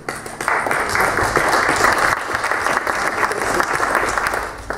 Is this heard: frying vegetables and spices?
no